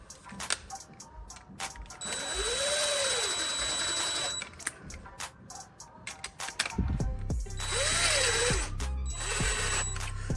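A power drill whirs in bursts while driving screws into a Miele dishwasher, with clattering handling noises between runs and a slower rising-falling motor whine near the end, no talk.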